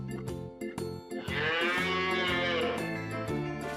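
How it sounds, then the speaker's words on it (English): A cow moos over upbeat background music in a children's farm-animal learning video, one drawn-out low call swelling midway. "Cow."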